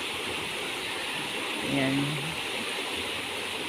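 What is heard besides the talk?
flooded river rushing strongly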